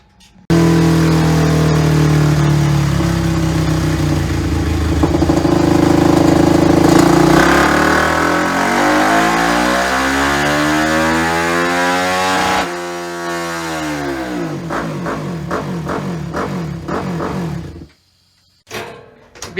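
Flat track motorcycle with a Vance & Hines exhaust and intake change revving on a dyno, loud and close, climbing through sweeping rising and falling pitches before dropping to blips and cutting off.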